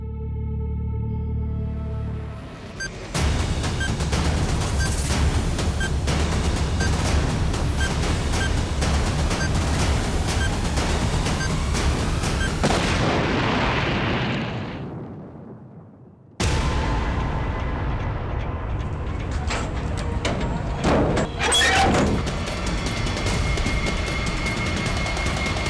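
Bomb explosion sound effect from a Hindi crime drama: a dense, roaring blast with crackling debris rumbles for over ten seconds, fades, then a second loud burst of crashing noise follows with no voices.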